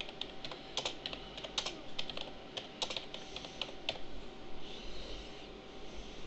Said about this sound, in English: And type some marketing stuff here.